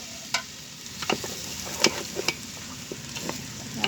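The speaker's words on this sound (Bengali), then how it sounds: "চালগুলোরে কিছুক্ষণ তেলের উপরে ভাজা ভাজা করছি" Raw rice grains toasting in hot oil give a steady low sizzle with scattered crisp ticks and utensil taps, close and moderately loud, no voices.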